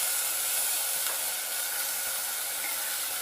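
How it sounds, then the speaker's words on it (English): Chopped garlic and green chili sauteing in a hot pan for a mushroom spinach pulao, giving a steady, bright sizzle and hiss that holds evenly throughout with no talking. "Just saute it for almost 2 to 3 minutes so it releases its moisture."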